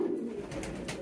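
A pigeon coos close by in a loft where a female has laid eggs, giving a short soft throaty warble.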